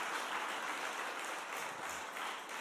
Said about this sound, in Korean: 우리 청년들 박수 한번 부탁드립니다.